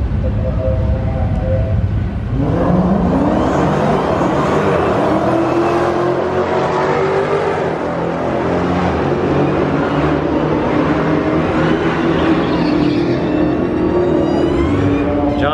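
Drag racing cars launch and accelerate hard down the strip at a Mopar drag racing event, a loud roaring engine climbing in pitch through gear changes and holding a sustained howl, close and without talk.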